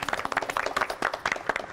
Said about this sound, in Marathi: आणि एकदा या दोघांसाठी सुद्धा टाळ्या.